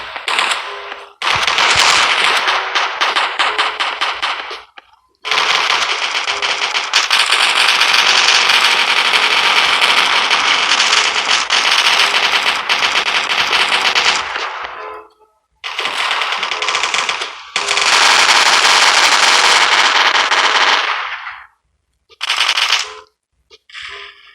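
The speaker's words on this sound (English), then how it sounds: "So there is one of our assault rifles and our hybrid gun." Assault rifle and hybrid gun in the mobile shooter game Coalition firing long, loud automatic bursts, some lasting about ten seconds, separated by brief silences, with short bursts at the end and no talking.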